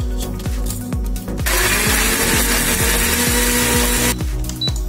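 A mixer grinder whirs loudly and continuously for a few seconds, starting and stopping with rhythmic pulses, blending whole spices and tomatoes into a paste in a jar.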